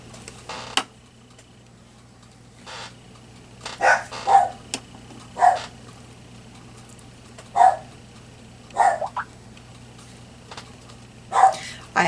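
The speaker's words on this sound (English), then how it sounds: "I have no idea what my dog is going nuts about." A pet dog barks in short, sharp bursts at irregular intervals indoors, moderately near, over a quiet room hum with no talking.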